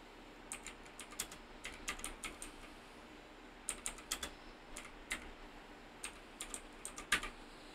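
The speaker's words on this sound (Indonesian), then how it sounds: "Maka setelah ini kita ketik apt install upgrade." A terminal command being typed on a computer keyboard for a Debian 11 system, with quiet, close bursts of key clicks in uneven runs and short pauses between.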